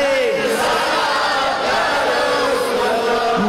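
A crowd of voices loudly chanting Allahu Akbar in answer to the Nara-e-Takbir call at a Bengali religious gathering, a sustained, dense roar of many voices filling the whole stretch.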